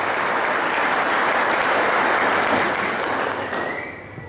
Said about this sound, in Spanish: quiero pedir un caluroso aplauso a nuestra bandita